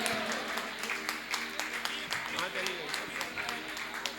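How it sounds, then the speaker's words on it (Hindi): Audience at a Jain temple consecration ceremony claps steadily in a sustained round of applause, fairly faint with sharp individual claps standing out. "एक बार जोरदार ताली बजा करके भैया जी का अभिनंदन करेंगे"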